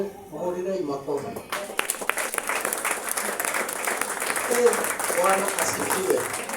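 Church congregation clapping hands during a service, a dense continuous wash of applause that swells after a brief spoken opening, with voices and cries mixed in throughout.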